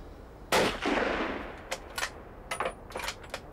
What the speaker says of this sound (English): The hunting teams are at the shooting range, practicing their aim as early as summer.